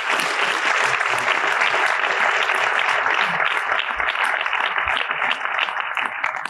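An audience at a science talk about fireballs and planetary impacts applauds steadily for several seconds, a dense wash of clapping from a room full of people that fades slightly toward the end.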